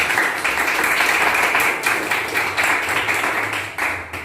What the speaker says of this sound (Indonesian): Yuk, kasih aplaus dulu buat kelompoknya.